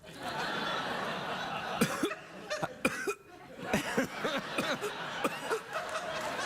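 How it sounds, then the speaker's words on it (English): Someone coughs several times in short bursts, close by, over steady background noise with a few soft chuckle-like sounds. "are you turning your head and coughing?"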